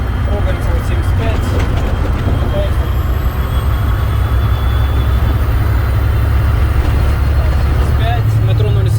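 A heavy truck engine, loaded to about 50 tonnes, drones loudly and steadily as it pulls uphill, with someone talking over the constant rumble.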